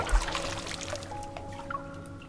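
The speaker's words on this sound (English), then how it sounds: "Water flows into the tub as it soaks Xavier's clothes and washes away the blood on the floor" Water pouring and trickling into a bathtub in a dark bathroom in the video game Love and Deepspace, a soft, steady flow with faint splashes and drips, quiet and close.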